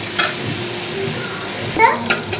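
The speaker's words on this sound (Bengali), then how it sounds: "আলু ভাজি করতেছি" Potato slices fry in a pan for a home-style Bangladeshi aloo bhaji, giving a steady soft sizzle with occasional stirring scrapes while people talk nearby.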